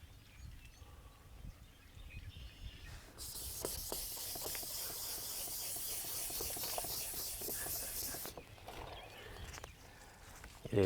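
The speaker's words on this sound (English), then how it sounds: "It's gonna take a lot more sanding than what I did initially." A plastic headlight on a G35 350z is hand-sanded with coarse grit, giving a fairly faint, continuous scratchy hiss and rubbing strokes that grow stronger in the middle stretch.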